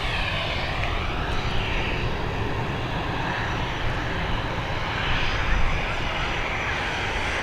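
An A320 airliner climbs away from Dublin Airport bound for Charles de Gaulle, its jet engines a broad, steady roar that holds loud and unbroken throughout.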